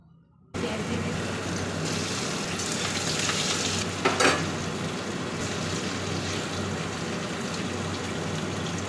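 Marinated paneer pieces coated in cornflour and egg fry in a pan of oil for chili paneer, a loud, close, continuous sizzle starting abruptly after a brief quiet moment, with a sharper burst of spattering midway and no voices.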